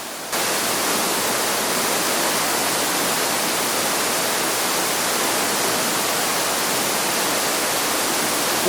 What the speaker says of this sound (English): it ends with this waterfall coming in from the outside world.